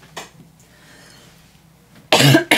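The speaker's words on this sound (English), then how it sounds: "I'm also going to try not to have a coughing attack." A short cough near the start, a quiet pause, then a loud, harsh cough close to the microphone near the end.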